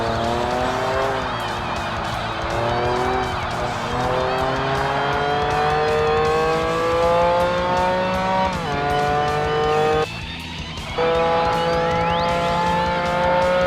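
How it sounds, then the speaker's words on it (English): A Renault Sport car engine in the video game Forza Motorsport (2005) revs loudly and continuously, its pitch climbing through gears and dropping at shifts, with a brief tire screech near the end. "this car is definitely a bit louder than I was expecting"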